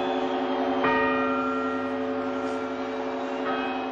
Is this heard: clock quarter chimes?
yes